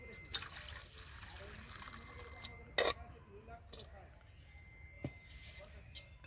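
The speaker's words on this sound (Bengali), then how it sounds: "উষ্ণ দুধ নিয়ে নিয়েছি ঢেলে নেব" Warm milk poured into a bowl for a rice-flour batter makes a faint, quiet trickle with a couple of brief sharp clinks, and a soft voice is also heard.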